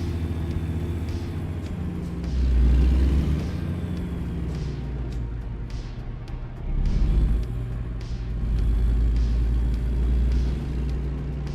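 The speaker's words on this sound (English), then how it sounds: "I do like me the sound of that truck, though." Vintage cabover truck driven on a backroad, its deep engine rumble rising in several revving surges between shifts, loud and close throughout with no talking.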